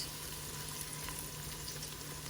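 Onions cooking in a pan for creamed spinach, a soft continuous frying sizzle, faint and even, with no voices over it.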